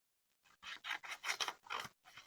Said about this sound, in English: we're gonna cut it into 3 flaps